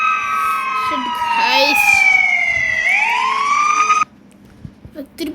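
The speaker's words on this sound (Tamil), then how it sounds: "சைரன் ஹெட் வந்துட்டாங்க கைஸ்" The Siren Head siren in a Roblox horror game blares loudly in a layered wail that slides down in pitch, then sweeps back up before cutting off abruptly, with a person talking briefly over it.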